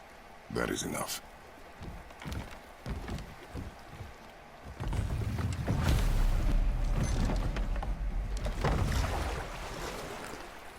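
A boat moving across water in the action-adventure video game God of War, with a low rumbling wash and splashing that swells loud from the middle onward after scattered knocks and bursts.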